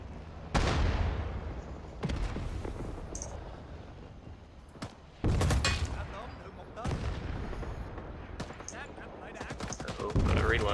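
Heavy machine gun fire in the video game Rising Storm 2, coming in loud sustained bursts with short pauses between them, with battlefield shots and clicks mixed in and a voice talking underneath.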